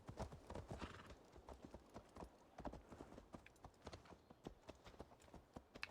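Horse hooves clip-clop in a rapid, uneven rhythm as horses ride in the Assassin's Creed Valhalla video game, fairly close and quiet, with a faint whinny and no talk.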